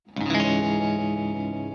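An electric guitar rings out through tremolo and reverb effects, a single sustained chord swelling in and shimmering with a pulsing wobble as it slowly decays, played alone.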